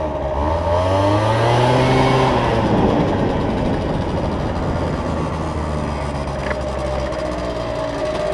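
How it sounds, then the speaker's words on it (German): A tuned scooter fitted with a smaller rear wheel accelerates hard, its engine note rising steadily and loud, close by, with a droning whine climbing in pitch throughout. "Man merkt richtig, wie der Roller besser beschleunigt als mit der 13 Zoll Felge."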